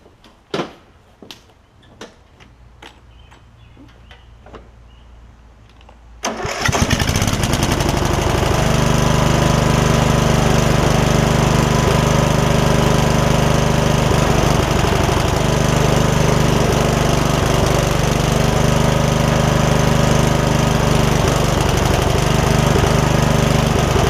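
Yard Machines riding mower whose engine had been full of water: a few faint clicks and knocks, then the engine catches after about six seconds and runs loud and steady for the rest, a close, rough, droning roar.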